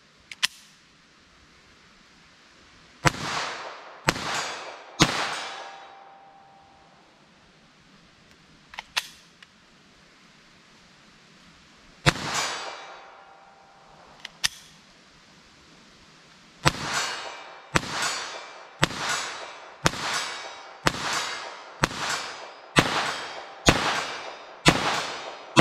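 .22 LR rifle shots fired with Remington Golden Bullet hollow-point ammo at an outdoor range: sharp, loud cracks, first a few spaced apart with pauses, then a steady series of about a dozen evenly timed shots near the end.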